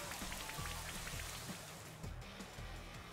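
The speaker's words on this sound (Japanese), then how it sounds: "雨だぜ。" Rain in the Pokémon Shield video game, a soft, even patter of drops falling on a surface, quiet and continuous with faint scattered taps.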